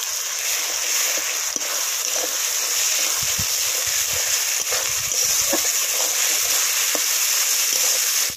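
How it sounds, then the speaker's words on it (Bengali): A spice paste of cumin, black pepper, chili and ginger-garlic fries with melted onion and tomato in a pan, giving a steady, loud, hissing sizzle throughout with a few faint stirring clicks. "এবার মশলাগুলো 2 মিনিট কষিয়ে নেব।"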